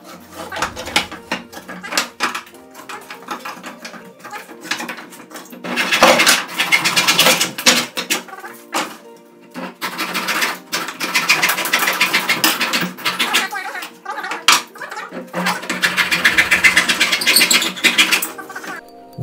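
Pallet wood offcuts being sawn into 20 cm pieces, with steady bursts of cutting noise that start, pause and resume several times, loud and close with no talking.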